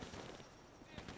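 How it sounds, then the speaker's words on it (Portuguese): Rapid automatic gunfire in the zombie mode of GTA 5, a short, dense burst of overlapping game shots heard faintly with a voice talking underneath. "Eles estão atirando, cara."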